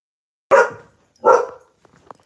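A dog gives two loud, close barks about three-quarters of a second apart, followed by a few faint clicks and small noises, with no one speaking.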